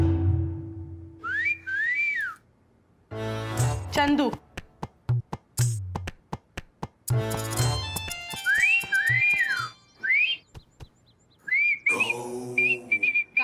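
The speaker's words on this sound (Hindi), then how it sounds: "तो उसको बुलाने के लिए सीटी मार रहे थे।" Repeated rising-falling whistles from a person calling a stray goat outdoors, sounding in several bursts between loud nearby voices and clattering noises, with people talking throughout.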